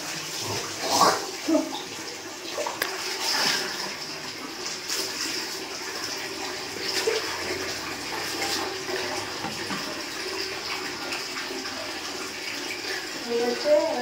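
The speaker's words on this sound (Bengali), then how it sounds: "গায়ে একটু জল তুলে নিলাম" Water poured over the body while bathing in a bathroom, with irregular splashes and pours rising and falling against a running-water hiss, fairly close, with some background voice.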